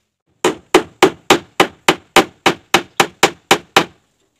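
Twelve evenly spaced hammer blows drive large 2.5-inch nails into a wooden boat's hull, each strike sharp, loud and close with a brief ringing decay, alone with no talk.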